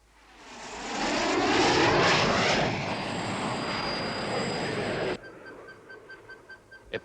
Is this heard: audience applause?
no